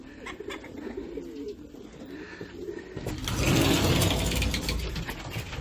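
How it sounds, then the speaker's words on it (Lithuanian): Racing pigeons cooing in a loft in Lithuania, soft repeated low coos close by, joined partway through by a louder rustling, mechanical rattle. "Svetimas paukštis."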